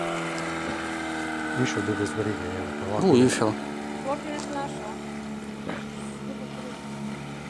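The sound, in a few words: motor of a plywood boat running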